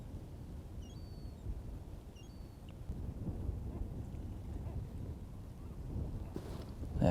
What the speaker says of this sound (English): It's flipping windy, admittedly